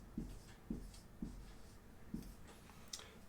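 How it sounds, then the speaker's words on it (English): A word written on a classroom board, with five or six faint, evenly spaced marker strokes tapping and squeaking in a steady rhythm in a quiet room. "Well, the word bloom, I'll write it on the board."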